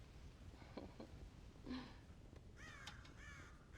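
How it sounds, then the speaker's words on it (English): Crows caw in the Red Dead Redemption video game, with scattered single caws followed by a louder run of harsh repeated calls over a steady noisy outdoor ambience, without speech. "God damn crows!"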